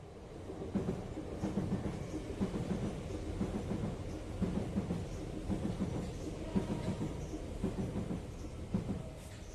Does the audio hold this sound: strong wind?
no